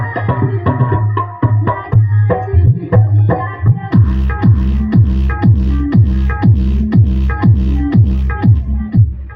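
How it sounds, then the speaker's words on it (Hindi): Heavy, booming bass beats from a 12-inch Dodj DS-12 subwoofer with a Class AB basstube amplifier pound loudly in a steady rhythm, dominating the music with deep low-end thumps and little else standing out. "देख रहे हैं बेस कितना तेज सर पे चढ़ के बोल रहा है"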